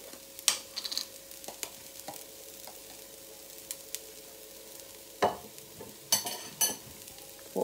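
Chicken filling seasoned with paprika and curry is stirred in a pan, giving soft, intermittent scraping and stirring noises over a faint, low sizzle. Several louder scrapes cluster toward the end, with no talking.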